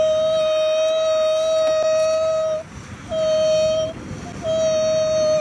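A voice imitates a mosquito's high, thin whine, the drone held in long steady stretches with two short breaks, loud and close over a faint outdoor background.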